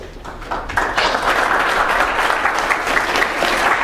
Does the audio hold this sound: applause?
yes